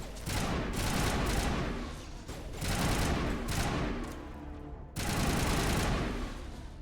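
Mass Effect firefight with loud, close bursts of rapid gunfire coming in three separate volleys. Each volley is a dense, crackling barrage with brief lulls between them.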